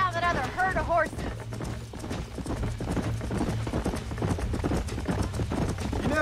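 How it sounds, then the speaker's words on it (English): Horses gallop in Red Dead Redemption, with rapid overlapping hoofbeats and a neigh near the start, over a steady game background with music. "Let's see if we can track down that other herd of horses."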